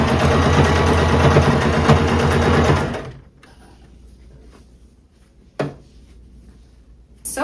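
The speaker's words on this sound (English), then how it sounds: "now we can just use a straight stitch with our regular sewing machine to attach the cups." A regular sewing machine straight-stitches fabric for a thrift-flip top, running loud and fast for about three seconds before stopping, then a few soft clunks in the quiet.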